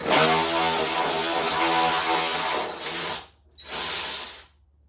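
A Ryobi 18V 3/8-inch cordless ratchet turns a bolt with a loud, close, continuous buzzing whir for about three seconds, then stops briefly and makes a second shorter run.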